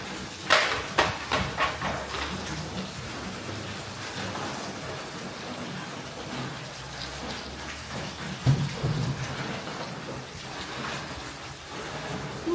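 Rain falls steadily outside as a broad, continuous hiss, with a few louder knocks and patters near the start and again later.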